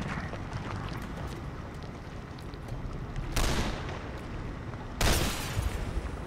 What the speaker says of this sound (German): kam noch ein Schuss geflogen